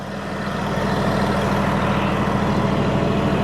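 Farm trucks idle down below, heard from up high on a stockpile of chicken litter as a steady, continuous low diesel rumble mixed with wind noise.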